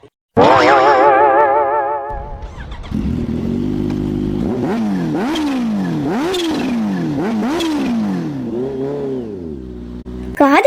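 A motorbike engine revving repeatedly, each rev rising and falling in a wavy whine, loud and close, after a brief higher-pitched tone at the start.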